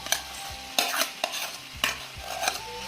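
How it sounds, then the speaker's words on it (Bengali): Meat fries in a pan with spices as it is stirred, giving repeated scraping strokes of the spoon over a steady sizzle, close by and with no voices. "মশলা দিয়ে কষিয়ে নেবো"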